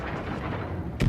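Big naval cannons fire from a battleship in a warship video game, with a rumbling low boom building across the clip before a sharp, heavy blast at the very end.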